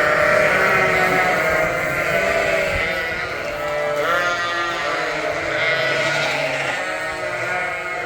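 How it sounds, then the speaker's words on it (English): Lambs bleat repeatedly in overlapping calls as a flock is moved between barns, several wavering cries layered over a busy background of shuffling and farm noise. "we're going to bring all the lambs over here"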